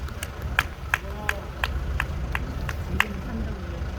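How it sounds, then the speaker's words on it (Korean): A crowd at an outdoor rally in Busan claps in a slow, regular unison rhythm of about ten sharp beats over low rumbling background noise and murmur. "박수!"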